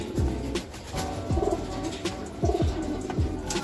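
Racing pigeons coo in a slow, repeating rhythm while eating, several soft calls close by over a busy background murmur.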